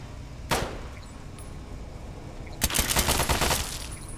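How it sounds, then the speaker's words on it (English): A Mark 7 turret firing in Fallout: Tale of Two Wastelands, a single sharp burst followed a couple of seconds later by a rapid stuttering volley of shots, moderately loud over a quiet background. "It's a Mark 7 turret."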